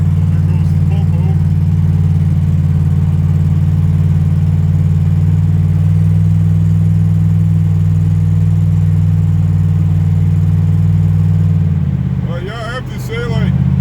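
A Ford Crown Victoria's engine drones steadily while the car drives along a road, a loud low hum under continuous road and cabin noise that persists for most of the clip before dipping briefly near the end.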